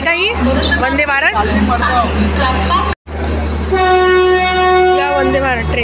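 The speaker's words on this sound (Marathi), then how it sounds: "प्लॅटफॉर्म क्रमांक 7 वर आलेली गाडी" A Vande Bharat train pulls in at platform 7 of an Indian railway station, with steady low rumble and a long sustained horn-like tone, heard close and loud under continuous talk and station bustle.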